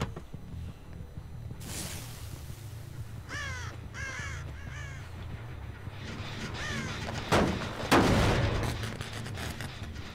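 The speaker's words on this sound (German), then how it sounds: "Da waren Raben." Ravens in the Dead by Daylight video game let out several harsh caws in short bursts, over a low rumbling ambient drone with a couple of loud thumping hits near the end.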